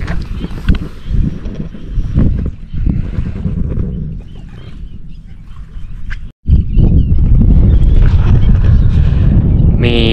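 Strong wind buffets the microphone on a fishing trip on the water, a loud, steady, rumbling roar that drops out for an instant and then comes back just as heavy.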